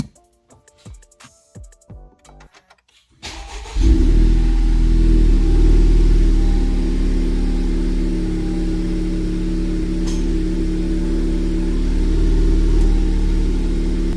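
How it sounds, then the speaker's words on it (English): A 10th-generation Honda Civic starts at about three seconds after a stretch of quiet clicking, and its engine settles into a loud, steady idle hum that runs close and unbroken to the end. "So we're gonna switch the car on."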